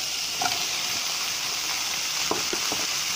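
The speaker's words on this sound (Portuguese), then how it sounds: "Agora eu vou adicionar as verduras." Beef sizzles steadily in a pan with a continuous hiss, while a few scrapes and light knocks mark vegetables being added and stirred in.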